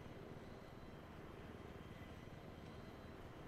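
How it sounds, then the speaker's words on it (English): Helicopter rotor and engine drone from the Battlefield 3 video game, a steady broadband rumble with thumping low-end pulses holding close and loud for the whole stretch, with no talk over it. "there's a helicopter right in front of us"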